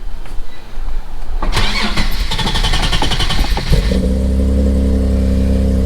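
Nissan G37 with a Motordyne exhaust cranks and catches, a busy burst of starter and ignition noise settling into a loud, steady low idle rumble close by.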